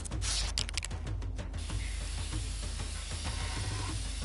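Spray painting in Infamous: Second Son, a sharp pressurized hiss with a few quick spurts up front, then a steady softer spraying hiss over a low rhythmic background rumble.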